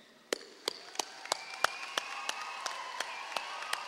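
At a graduation ceremony, an audience claps together in unison for the graduating class, about a dozen sharp, evenly spaced claps over a low crowd murmur.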